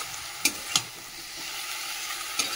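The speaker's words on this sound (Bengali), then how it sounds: "একটু জল দিয়ে এবারে মশলাটা কষাবো" Spice paste frying in a pan with a little water added, a steady close sizzle with a few sharp clinks and scrapes of a spoon against the pan, no talking.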